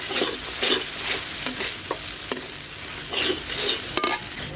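Masala with grated coconut being fried and stirred in a pan for rajma dal, a steady sizzle broken by repeated scraping strokes of the spoon, close and continuous with no talk.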